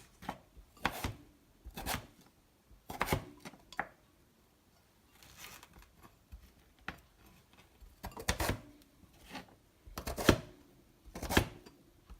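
A knife cuts through jackfruit on a board, making a series of separate, close, quiet chopping thuds and squishy crunches with short pauses between them.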